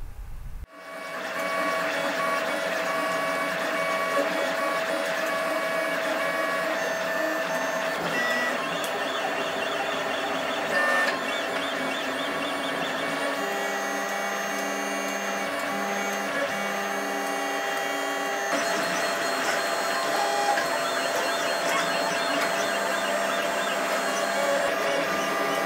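A 3D printer prints robot parts, a continuous whirring motor hum with shifting tones as the print head moves, running steadily with no speech.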